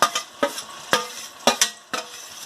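Cabbage and carrots fry with onions and spices in oil and ghee in a pan, a soft sizzle broken by regular scraping strokes of a spatula, about five close stirs in quick rhythm.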